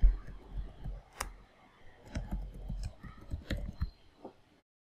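Mouse clicks during a Rocky Linux install on VirtualBox, a scattered series of sharp close clicks, some in quick pairs, over a quiet background with no talk.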